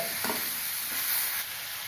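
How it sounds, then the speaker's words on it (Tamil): Tomatoes and bitter gourd sauté in a pan for a bitter gourd kara kuzhambu, giving a steady soft sizzle with a couple of brief scraping stirs near the start. "தக்காளியும் வதங்கிடும் பாவக்காயும் வதங்கிடும்"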